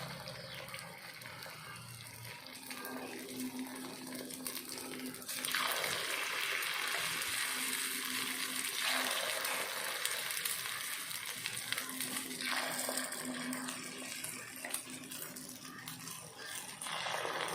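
Egg omelette batter is poured into hot oil in a pan and fries with a steady, hissing sizzle. The sizzle grows louder partway through and carries on close and continuous.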